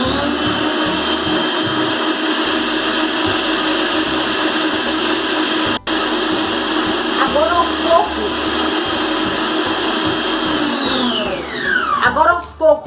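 An electric mixer beats egg yolks into batter for a homemade cornmeal cake, a loud, steady motor whine with a brief dropout midway and shifting pitch near the end as the load changes.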